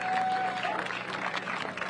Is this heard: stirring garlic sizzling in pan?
no